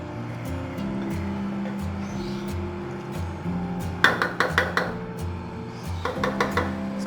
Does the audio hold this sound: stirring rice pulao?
yes